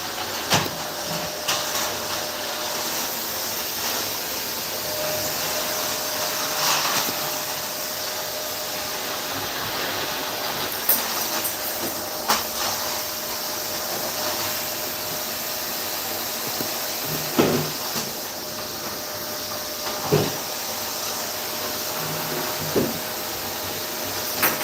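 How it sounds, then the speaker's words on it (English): A vacuum cleaner runs as a steady broadband drone throughout, with a few soft knocks and bumps rising above it and no talking. "I'm just going to wait for this vacuuming to finish"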